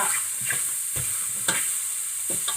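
Fatty pork belly stir-fried in a pan for a Thai bamboo shoot curry, a continuous moderate sizzle broken by repeated scraping stirs and light clacks of a spatula.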